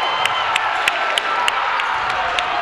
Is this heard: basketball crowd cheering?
yes